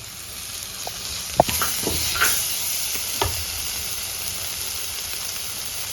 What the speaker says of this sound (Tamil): அப்படியே நல்ல எண்ணெயிலேயே மசாலாவை நல்லா பரட்டி விடணும்.